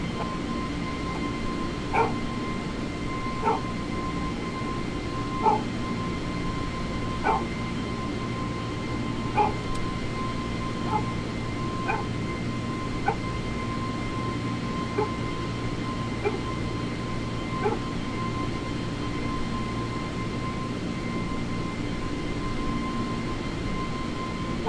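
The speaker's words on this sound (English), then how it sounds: "Can you hear Danny barking?" A dog barks in short, evenly spaced single woofs, a dozen or so, heard indoors over a steady hum of an aircraft cockpit engine drone in a flight simulator setting.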